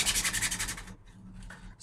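Hand sanding of a hardened wad of CA glue mixed with powder on a 3D printed part: a quick series of rhythmic back-and-forth rasping strokes, close and loud, that stops partway through, followed by quieter scraping.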